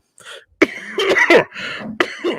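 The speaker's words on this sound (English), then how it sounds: "I apologize for the cough." A person coughs several times in quick, harsh bursts, close and loud, with a short throat-clearing quality between them.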